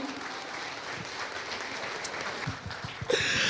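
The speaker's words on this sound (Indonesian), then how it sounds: "tepuk tangan sekali lagi untuk Bu Dewi Hesni." An audience at an Indonesian talk show applauds steadily, with broadband clapping that holds at a moderate level throughout and ends in a brief louder burst.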